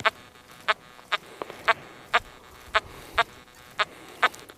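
Minelab ORX metal detector giving a sharp, repeated beeping tone while searching for gold and meteorites, about nine evenly spaced short chirps over faint background hiss.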